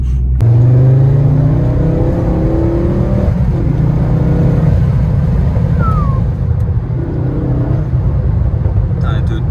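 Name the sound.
car engine accelerating hard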